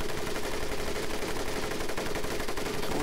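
Gunfire in the World War II shooter Medal of Honor Pacific Assault forms a dense, continuous rattle of rapid shots that stays loud and unbroken throughout.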